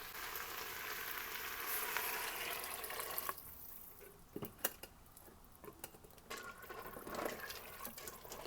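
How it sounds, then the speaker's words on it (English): Water pours into a pot of chickpeas, onions and elbow macaroni, a steady splashing fill that gives way to scattered drips, light clinks and bubbling, faint and close with no talking. "and now it's time for some water."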